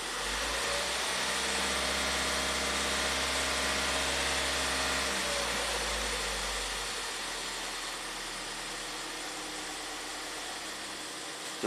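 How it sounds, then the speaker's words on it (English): Ford EcoBoost engine with P0106 and P2196 fault codes running at raised RPM, a loud steady droning hum that holds for several seconds, then eases back toward a lower, quieter idle. "Raise the RPMs a little bit."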